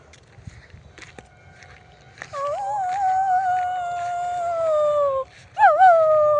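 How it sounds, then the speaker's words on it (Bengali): A dog howls in long, wavering cries, a brief one then a sustained wail that breaks off and resumes with a short rising howl, fairly close. "কুকুরের কান্না"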